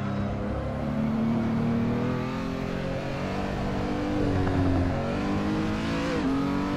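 A Renault R.S. 01 race car engine in Assetto Corsa on the Nürburgring revs and accelerates steadily, a loud continuous drone rising and shifting in pitch with no voices over it.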